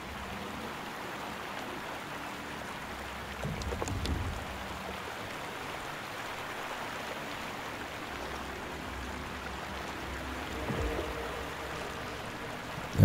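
A raft drifts down a river in the video game Outlast 2, with a continuous rushing of water and a low, rumbling flow, plus a few faint knocks and splashes.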